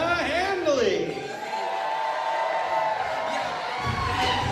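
Wedding guests at a reception toast cheer and whoop in a steady crowd roar, with shouting voices rising over continuous applause throughout.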